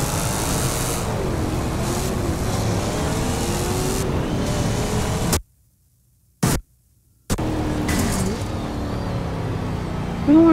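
Car engine in the Forza Horizon 2 racing game revs and races with rising and falling pitch sweeps, cutting to near silence for about two seconds before the roaring returns.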